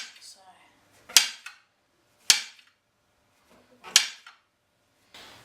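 A knife slices through mushrooms on a cutting board in three sharp, crisp chops spaced about a second apart, close and clear against near silence.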